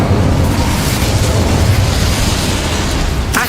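Incendio fire spell cast in Hogwarts Legacy produces a sustained, loud rumbling blast like a burst of flame that roars evenly throughout and ends with a brief sharper crackle, no speech present.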